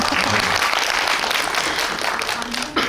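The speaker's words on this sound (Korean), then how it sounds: "박수 한번 부탁드립니다" Audience applause fills a cinema after a film screening Q&A at CGV Yongsan, dense steady clapping from a packed house that carries on throughout, with a few voices rising faintly near the end.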